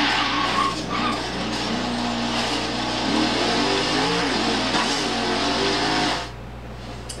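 A car engine in Forza Horizon 3 drones loudly and steadily with tire squeal and skidding, staying constant before cutting off near the end.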